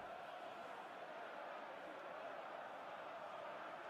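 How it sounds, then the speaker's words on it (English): Aberdeen football crowd booing as a Rangers substitute comes on, a dense, distant, sustained roar of disapproval filling the stadium at an even level throughout. "the boos ringing out for the Aberdeen crowd as Miovski comes on"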